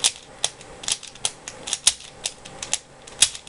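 A MoYu AoSu 4x4 speed cube being turned by hand, producing a steady run of light plastic clicks and clacks at an irregular, quick rhythm, close and fairly quiet with no talking.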